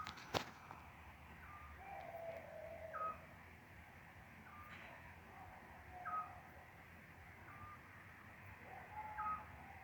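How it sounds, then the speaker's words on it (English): A scops owl singing at night in the Camargue, giving short, evenly spaced whistled notes at a moderate distance over a steady background hiss. "It's a scops owl. It will mostly start singing around 10"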